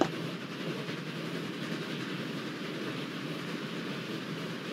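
Trains run in the video game Transport Fever 2, a steady rumbling rail noise with faint clickety-clack under it. The sound is continuous and moderately loud, and no one speaks.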